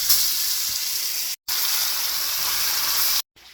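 Pike and walleye fillets sizzle loudly in olive oil and salted butter over a cabin stove in the bush, a steady crackling hiss broken by two brief cuts to silence.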